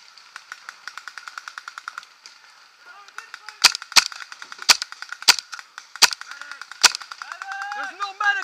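Airsoft guns fire during a skirmish game, first as a rapid burst of light snapping shots, then as a series of louder single cracks spaced roughly half a second apart, with short shouted voices between them.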